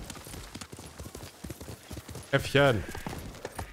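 Horse hooves clip-clop in the Ghost of Tsushima DLC on PS5, a steady rhythmic trot under ongoing speech with a louder burst of game sound near the end.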